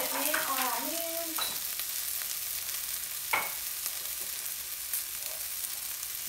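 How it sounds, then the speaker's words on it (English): Ginger and garlic fry in a pan for Kung Pao beef, a continuous sizzle with a few stirring scrapes and clicks, near and fairly quiet, with a faint voice-like tone at the start. "I'm going to add the rest of the ginger and the garlic and give it a stir"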